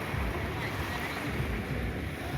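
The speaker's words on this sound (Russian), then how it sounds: "Немножко море на закате поснимаем." Sea waves wash steadily at sunset by a seaside embankment in Yeysk, a soft continuous surf rush heavily buffeted by wind noise on the microphone.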